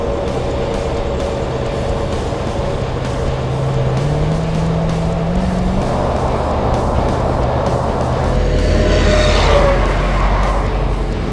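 A new Mack truck drives along in Orlando, Florida, its engine giving a steady, loud rumble that swells slightly toward the end, with no voices.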